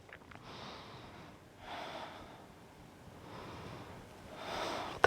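Slow, audible breaths in and out come from a person holding a yoga bridge pose, soft, close and evenly paced in three or four swells, with no talk over them.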